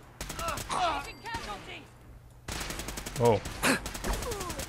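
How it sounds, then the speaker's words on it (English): Fallout 4 combat brings rapid bursts of automatic gunfire, with clusters of sharp shots separated by a brief lull. A man gives a short exclamation over the shooting. "Oh, they're just literally shooting everyone."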